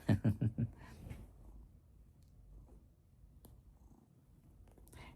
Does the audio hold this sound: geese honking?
no